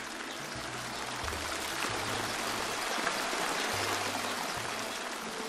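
Fountain water splashes and streams steadily in a garden of the Alhambra palace. It is a soft, continuous rushing trickle with no voices.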